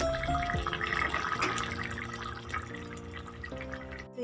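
Thin hilsa fish and eggplant curry is poured out, a faint liquid trickle and splash with small clinks from the pan, heard close and soft.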